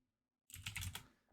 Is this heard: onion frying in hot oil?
no